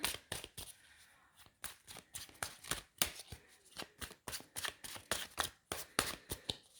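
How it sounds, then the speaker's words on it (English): A tarot deck riffled and shuffled over and over, crisp rapid flutters and taps repeating in quick bursts, close by, with no talking. "Just gonna give it a last shuffle."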